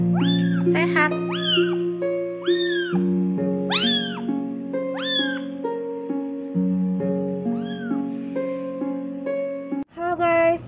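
A baby kitten meows repeatedly in high, rising-and-falling cries, close and loud, over a steady low drone; a brief rustle comes at the end.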